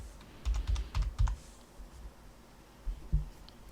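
Password being typed on a computer keyboard, heard as two quick bursts of soft key clicks followed by a pause and then a few final taps, close and quiet with no talk.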